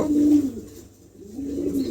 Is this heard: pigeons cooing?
yes